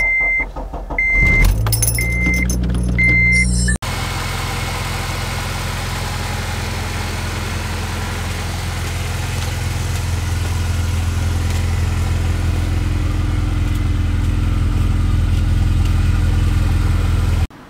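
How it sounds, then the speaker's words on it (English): A car (Si) cold-starts after sitting nearly a month: warning chimes and a starter crank, then the engine catches and settles into a steady, loud close-up idle that runs on until it is shut off abruptly at the end. "right now I'm just gonna go ahead and give it a cold start with the car."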